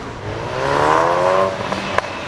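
A race car laps the track at the Carlisle Ford Nationals, its engine note rising and falling in a steady drone, with a brief sharp click near the end.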